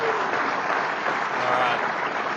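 Audience applause at a TechEd Europe 2012 tech conference talk: a dense, steady wash of many hands clapping together, loud and unbroken for a couple of seconds.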